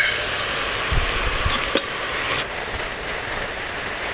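A steady bubbling sizzle comes from a pot of chicken soup as it is stirred, with a few soft knocks and a drop in the noise partway through.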